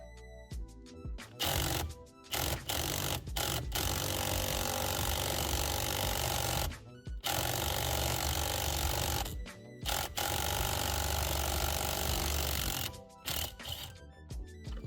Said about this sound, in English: using an impact gun really helped out because it loosened it real easily